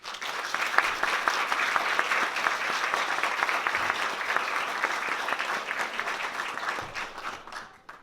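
An audience at a Fresno State faculty poetry reading applauds to welcome poet Tim Skeen, a dense, sustained round of clapping that fills the room before tapering off at the end.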